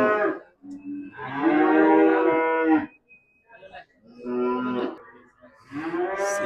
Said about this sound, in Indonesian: Simental betina nih